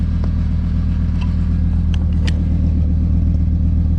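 Idling car exhaust fitted with a new HRE mid pipe, a steady low rumble running throughout with a few faint clicks on top, close and alone with no talk.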